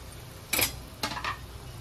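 Prawn masala being plated, with two short clinks and scrapes of a utensil against a dish, spaced apart over a low steady background hum.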